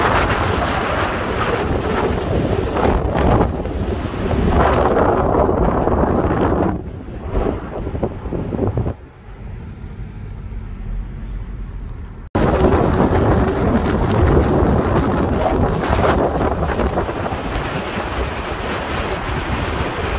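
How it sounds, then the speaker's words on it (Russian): Strong wind roars and buffets loudly, dropping to a quieter rumble partway through before surging back full force. "Ветер."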